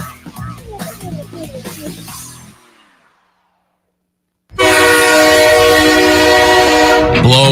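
A loud, sustained train whistle with rich stacked harmonics blasts for about three seconds after a brief silence, preceded by a busier burst of rail and horn-like tones that fades out.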